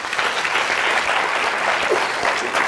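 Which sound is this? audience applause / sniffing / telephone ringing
audience applause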